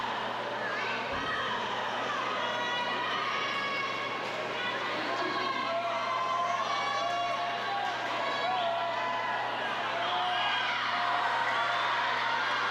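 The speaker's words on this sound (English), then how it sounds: "This crowd growing joyous." Spectators at a college swimming meet cheer and shout in a steady, loud roar of voices that builds slightly toward the end, with an announcer talking over the noise.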